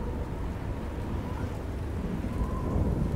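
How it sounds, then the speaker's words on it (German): Heavy rain pours continuously in the video game Oblivion while low thunder rumbles underneath, a steady stormy wash with no voices. "Sheogorath mag Regen."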